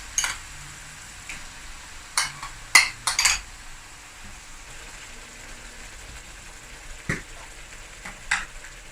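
Blended yogurt frying in hot oil for an egg and potato curry gives a faint, low sizzle, punctuated by several sharp clinks and scrapes of a utensil against the pan.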